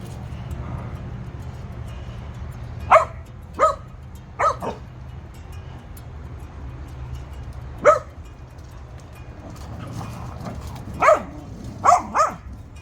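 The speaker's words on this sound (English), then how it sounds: "I'm going to leave y'all with watching the puppies play" Puppies at play on a farm, giving scattered short barks and yips, some in quick pairs, over a low steady background hum with no talking.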